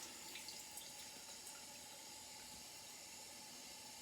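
Water runs steadily from a tap while shaving soap is being wetted, giving a continuous close hiss and splash with no talking over it.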